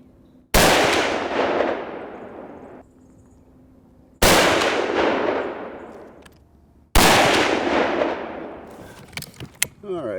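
Three loud rifle shots fired while testing ammunition for group accuracy, each a sharp crack with a long decaying echo, spaced a few seconds apart, with faint clinks afterward.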